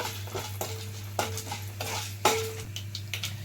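Dried red chili and asafoetida fry in hot oil for a bitter gourd curry, with a soft sizzle beneath several sharp clinks and scrapes of a spoon stirring against the pan, close and fairly quiet.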